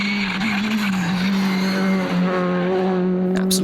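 Rally car pushed hard on a gravel stage at Rally Poland in the European Rally Championship, its engine droning loud and close with steady pitch shifts through gear changes and a brief sharp rise near the end.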